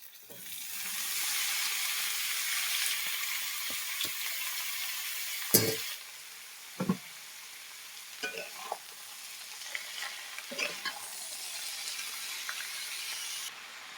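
Thin-cut strips of potato and beetroot sizzle steadily in a hot pan, with a few sharp clinks and scrapes of stirring partway through, no talking.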